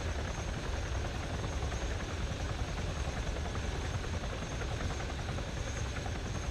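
Helicopter in the video game Warlords flying toward a helipad to land, a steady loud rotor and engine drone with dense low-frequency chop running unbroken throughout, no voices.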